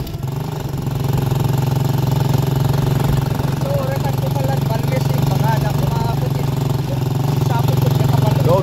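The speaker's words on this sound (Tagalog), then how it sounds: "malakas yung takbo, yung makina ng motor" A motorcycle engine runs steadily and loudly throughout, a constant close drone with a strong low hum, while voices talk over it.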